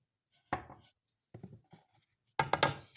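A utensil stirs homemade condensed milk into coconut macaroon batter with desiccated coconut, making short scraping, sticky bursts in a quiet room, with a clustered flurry at the end.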